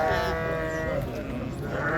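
Sheep bleat at a busy Bishkek livestock market where rams are being sold, a clear, wavering cry in the first half over steady background crowd noise.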